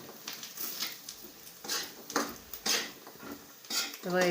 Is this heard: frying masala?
yes